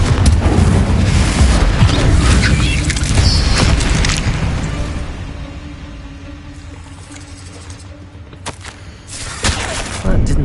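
Blasting-curse explosions from the Hogwarts Legacy video game, loud broadband booms and rumbling blasts up front, with bursts of crackle and later sharp impacts after a quieter stretch.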